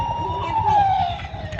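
A red toy model fire truck sounds its electronic siren, a loud wailing tone that rises and slowly falls, played close with no talking.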